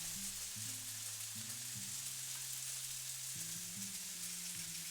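A quiet, steady hiss of tomatoes charring and sizzling in a hot pan for a balsamic chicken and vegetables dish. It comes with a faint low hum and stays even throughout.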